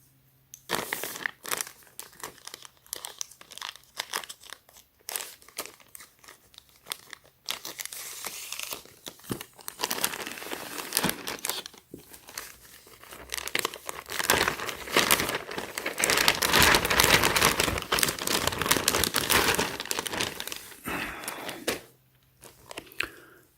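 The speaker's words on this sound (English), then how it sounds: "So let's go ahead and unwrap the t-shirt first." A Supreme t-shirt is pulled out of its plastic packaging with steady close crinkling and crackling of thin plastic, growing busier and louder toward the end before stopping, with no talking.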